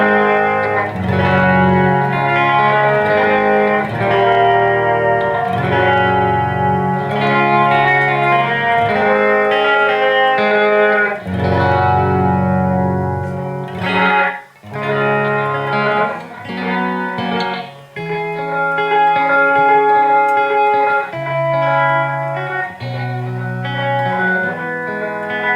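An electric guitar played through a Strymon BigSky reverb pedal rings out in sustained chords and melodic lines, washed in long, lush reverb tails that swell and overlap continuously without pause.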